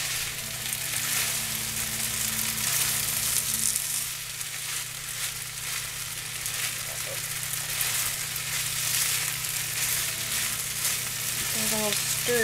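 Rice and shredded rotisserie chicken stir-fry in a hot pan for Thai fried rice, a steady, loud, close sizzle that runs throughout, with occasional scrapes of stirring.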